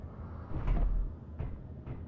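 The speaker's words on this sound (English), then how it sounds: "can we get out if we leave the door open?" A rocket door opening in the space-building video game Martian Engineering, heard as a couple of soft mechanical thuds and a rising whoosh, fairly quiet, with no talk.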